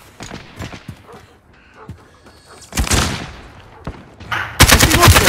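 Gunfire in a video game shoot house, with scattered sharp shots early, then a loud automatic burst and a closing sustained rapid volley.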